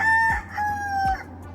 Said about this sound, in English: There's the chicken again.